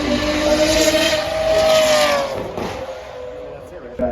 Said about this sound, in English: this Porsche Cayenne making its way up now, sporting the camo livery